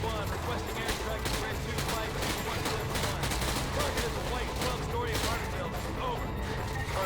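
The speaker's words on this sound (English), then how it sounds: "This is the ACR, as far as I remember, this gun right here, and it's the accuracy is just ridiculous." Rapid ACR rifle fire in Call of Duty: Modern Warfare 2, a dense, continuous burst of shots with clatter and battle noise, loud and close throughout without any clear pauses.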